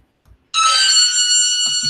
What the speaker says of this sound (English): My phone. I still have my Halloween sound on.